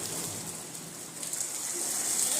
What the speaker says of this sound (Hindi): गांव में आ गई बहुत तेज बारिश और झमाझम बारिश